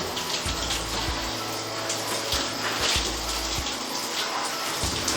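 Water runs steadily from a removable shower head, a continuous broadband hiss with low gurgling thumps now and then, close and fairly loud with no talk over it.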